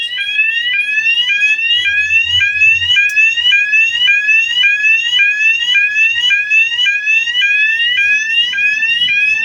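A fire alarm sounder goes off during a suppression system test in manual-only mode, a loud, continuous rising electronic whoop repeating in a steady, fast cycle that stays close and unbroken, with no voices over it.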